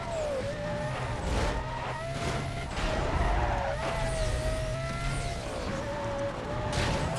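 Car tires skid and squeal while drifting in the racing game Need for Speed Most Wanted, a sustained screech that rises and falls over a constant engine roar.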